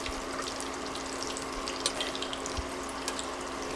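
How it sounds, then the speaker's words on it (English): Butter and olive oil sizzle steadily in a pan while potatoes cook, a constant close crackle with a few sharper pops and no voices. "Butter has water in it, so the water is going to sizzle off."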